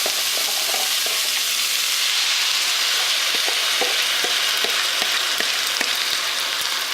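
Spicy chicken being stir-fried in a hot pan sizzles loudly and steadily while a spatula scrapes and taps the metal in irregular strokes, up close and with no talking.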